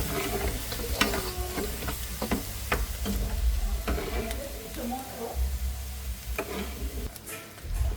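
Chicken curry masala sizzling in a pan as turmeric powder is stirred in, with scraping spoon strokes over a steady fry, and faint talk mixed in.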